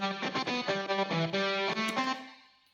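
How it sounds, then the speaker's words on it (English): A distorted electric guitar layer in an upbeat Splatoon-style battle loop, playing sustained chords and notes amid a dense mix that rings steadily for about two seconds and then fades out. "Another layer is just this distorted guitar."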